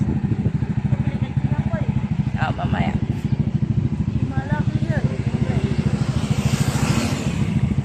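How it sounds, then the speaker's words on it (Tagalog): A motorcycle engine idles while warming up, a steady close putter with a rapid even pulse throughout, and a person speaks briefly over it. "pinapainit ko po ang motor niya"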